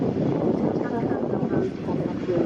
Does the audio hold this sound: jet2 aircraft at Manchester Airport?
yes